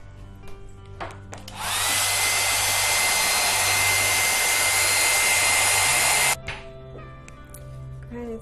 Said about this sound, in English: So I'm going to use my little handy blow dryer again.